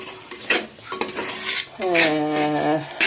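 Masala with a little salt is stirred in a pan, giving scraping clinks of a spoon against the metal over a soft sizzle, with a rising whistling tone near the end.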